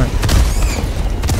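Artillery shells booming in the Helldivers 2 video game, a dense low rumble of blasts with a couple of sharper broadband hits, loud and continuous under a chaotic battle mix.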